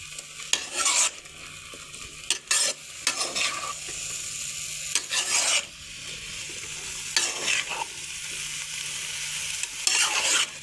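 Potatoes, peas and cauliflower being stirred together in a frying pan, with repeated scraping strokes of a spoon over a continuous sizzle, close and without speech.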